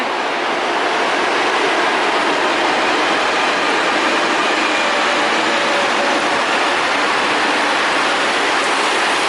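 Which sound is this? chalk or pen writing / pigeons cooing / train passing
train passing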